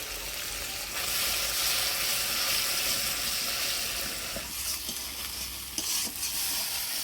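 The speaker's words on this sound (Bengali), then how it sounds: "জল দিয়ে নাড়াচাড়া করে নিলাম" Spice paste stirred with water in a pan for a Bengali banana-flower kofta curry, a steady wet scraping and gentle sizzle running throughout, fairly loud and close, with no voices.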